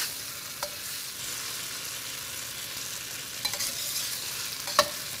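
Ingredients for pad thai stir-frying in oil in a wok, a steady bright sizzle running throughout with a few faint utensil taps; no talking.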